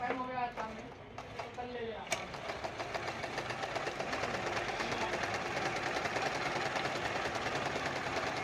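A domestic sewing machine stitching a fall onto fabric runs with a steady, fast mechanical whirr and rapid needle ticking after a brief start, close and continuous beneath someone talking at the outset.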